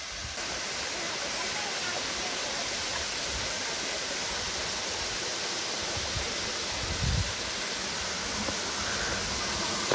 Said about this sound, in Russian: И вот водопад.